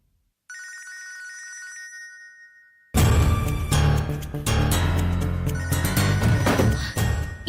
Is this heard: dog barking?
no